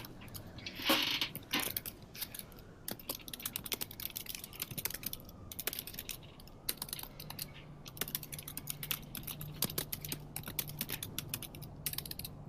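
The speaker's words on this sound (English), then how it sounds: "Various typing noises." Rapid clicking keystrokes on a computer keyboard, fairly quiet and steady with irregular bursts of taps, heard alone in a quiet room.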